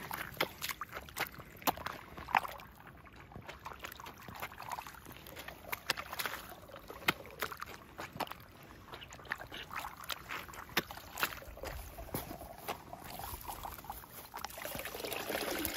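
Water runs and trickles steadily at close range through a rice-field water outlet, a continuous splashing flow with scattered small splashes and knocks throughout.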